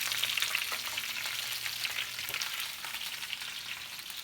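Potatoes pan-fry in a skillet, giving a dense, steady sizzle and crackle with a few brief stirring or shifting sounds and no voice.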